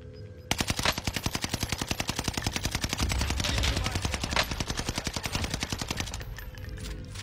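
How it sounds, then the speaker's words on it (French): A video game turret fires a long rapid burst, a dense even rattle of shots that starts abruptly, holds loud for several seconds, then cuts off, leaving a quieter background. "Il me tire dessus avec la tourelle."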